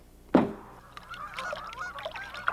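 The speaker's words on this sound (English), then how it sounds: "The sound of geese heading north" Geese honk while flying north over a still wilderness lake, one loud close call followed by a scattered chorus of fainter, overlapping honks from the flock.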